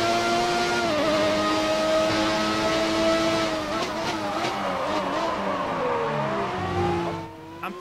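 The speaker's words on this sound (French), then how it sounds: "ce gros V12 qui aime bien chanter" Ferrari V12 engine in a Formula 1 car from F1 2019, singing loudly with rising and falling revs through gear changes and a chicane, tire squeal mixed in, continuous and close throughout.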